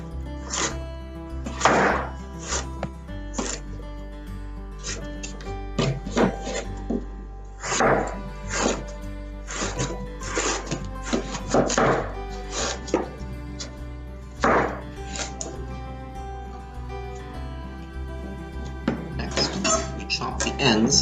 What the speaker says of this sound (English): We'll then chop off the ends of the carrots and continue cutting them down until we have something like a ribbon for